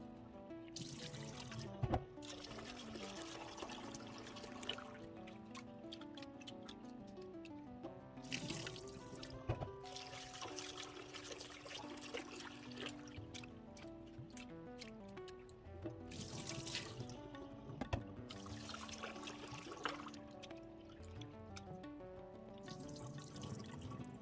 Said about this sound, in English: wash the red lentils until the water is clear